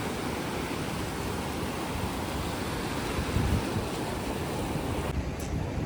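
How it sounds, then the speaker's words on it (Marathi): Rough seas pound a fishing beach on the coast during a sudden squall, a loud, unbroken roar of breaking surf with wind rushing over the microphone. "समुद्रात लाटा पण भरपूर वाढल्यात"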